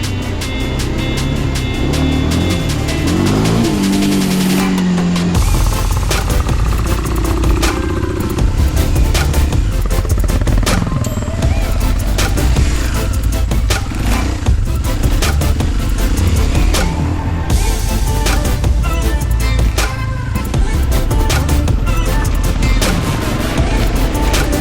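An enduro sport motorbike roars loudly and continuously on a narrow jungle trail in the crater of Batur volcano, Bali, its engine revving and surging close by with no talk.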